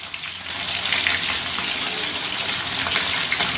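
Khoira fish frying in hot oil in a pan for a fish curry, a loud steady crackling sizzle that swells in after a quiet start and hisses continuously with no talking.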